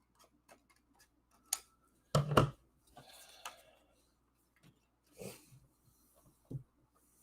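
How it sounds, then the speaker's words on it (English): Scissors trim paper card close up in a few quiet, separate snips and rustles, with short pauses and small handling noises between them. "Now I'm going to trim off this extra piece."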